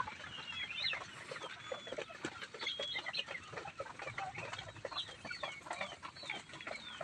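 Several chickens cluck and squawk in irregular bursts at a moderate distance, a busy, faint farmyard chatter with no talking.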